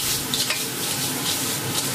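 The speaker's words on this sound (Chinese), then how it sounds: "将鱼倒入锅中稍许翻炒" Yellow croaker fish pieces being stir-fried in a wok with onion and red pepper, giving a steady close hiss of sizzling oil with light scraping and tossing throughout, no voices.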